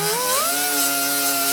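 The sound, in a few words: grinding down a weld with a 36 grit roll-lock disc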